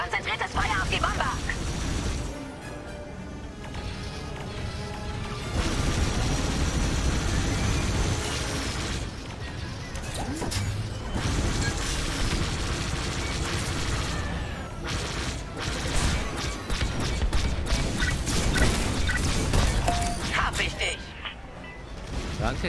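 Dense, continuous barrage of starfighter cannon fire and explosions in a Star Wars: Squadrons space battle, loud and close, with voices talking over the din.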